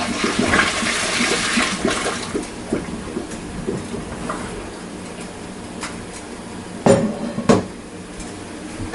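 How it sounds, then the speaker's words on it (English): Kitchen stovetop pot of water lifted off and poured out, a splashing, rushing pour with clanks of cookware, plus a couple of sharp knocks near the end. "So now I can get the water off the stove."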